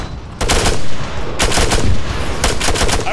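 Gunfire in the military game Arma 3, loud bursts of automatic fire crackling close by in three distinct volleys over a constant rumbling battle bed, with no talk.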